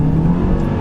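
A hybrid car in Sports Plus mode, with a roughly 200-horsepower petrol engine paired with a small 80-horsepower electric motor, accelerates hard, giving a loud, close, low engine roar for a brief moment.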